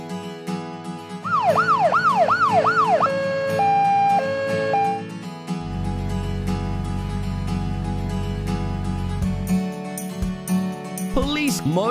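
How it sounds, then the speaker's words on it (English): A police utility van's loud siren wails in rising-and-falling sweeps, then switches to a two-tone alternating pattern over a deep engine rumble, followed by another rising wail. "Police utility van."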